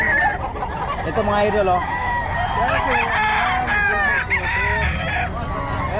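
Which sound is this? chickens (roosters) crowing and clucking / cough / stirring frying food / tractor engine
chickens (roosters) crowing and clucking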